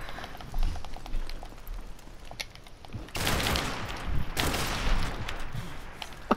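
Bursts of gunfire in Modern Warfare Remastered, a video game firefight: two loud, dense volleys of shots stand out near the end over steady game background noise.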